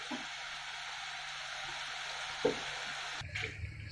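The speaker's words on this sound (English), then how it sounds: "so you have to fry like this. So make sure the oil is hot." Diamond biscuits frying in hot oil over a medium flame make a soft, steady sizzle throughout, with an occasional faint clink or knock near the end.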